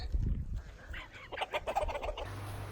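Chickens cluck in quick bursts at moderate distance in the Faroe Islands, with low rumbling noise and faint background sounds beneath them.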